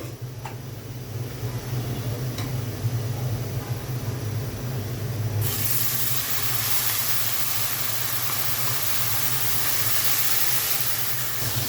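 Steady hiss and crackle of fried onions in a hot pan, jumping into a brighter, louder sizzle as water is poured in and continuing steadily, with a low hum underneath and no talking.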